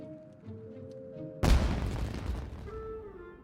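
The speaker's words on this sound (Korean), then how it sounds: "저쪽에서 뭔가 터졌어. 설마 폭죽?" Firecrackers burst in Genshin Impact with a sudden loud crackling boom that decays over a couple of seconds, cutting through soft background music.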